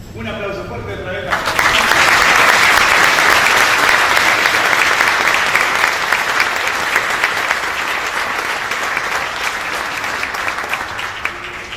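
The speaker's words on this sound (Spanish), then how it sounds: "Un aplauso fuerte otra vez." Loud, sustained audience applause at a choir festival concert in Río Gallegos, rising sharply after a brief spoken introduction and continuing as steady dense clapping to the end.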